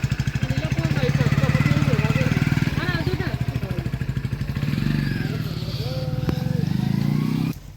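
A motorcycle engine runs steadily nearby with a fast, even pulsing throb, while people talk over it and a brief tone sounds near the end.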